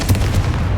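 A Confringo fire spell blast goes off in Hogwarts Legacy, a short, punchy low thump with a crackling burst, loud and close in a busy fight.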